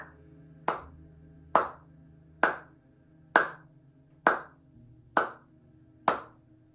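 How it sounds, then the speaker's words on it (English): Seven sharp, evenly spaced hand claps keep a slow, steady beat, each crisp and close against a quiet background. "So I'd like us to try and clap a beat together."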